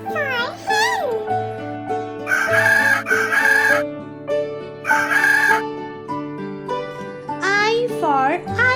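A rooster crows loudly over a children's alphabet song with bright synth music, the crow rising and falling clearly while a voice speaks briefly.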